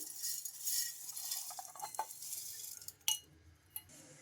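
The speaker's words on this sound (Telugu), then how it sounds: "ఈ అటుకుల్ని ఇప్పుడు ఒక మిక్సీ జార్ అయితే తీసుకొని ఇంకా ఇందులోకి వేసుకోవాలి" Flattened rice (poha) is poured into a mixer jar: a soft, faint hiss of dry flakes sliding in, followed by a couple of sharp clinks against the jar, close and without talk.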